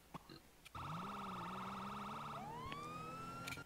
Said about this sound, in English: lights and sirens are on